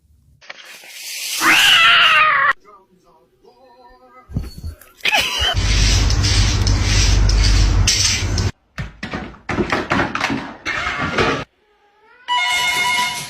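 Cat meowing up close in several loud bursts, with drawn-out rising and falling cries separated by short quiet gaps and a few clicks and knocks in between.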